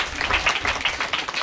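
Audience clapping at the prize ceremony closing a free summer badminton coaching camp in Kodimial, a steady patter of many hands with an even rhythm, moderately loud and continuous throughout.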